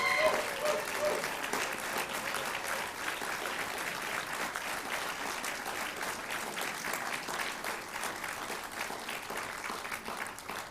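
Sustained audience applause for forum candidates, steady and dense clapping from a crowd throughout, fairly distant and even in level with no breaks.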